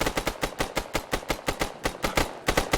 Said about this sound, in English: I can't hear you over the gunfire.